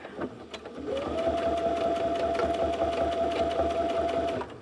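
A sewing machine stitches a boxy bag at a 2.5 stitch length, starting with a backstitch and then running in one steady, close mechanical whir with a rhythmic needle beat and a sustained motor tone.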